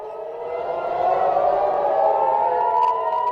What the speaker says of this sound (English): we are hearing sirens over Tel Aviv in Israel again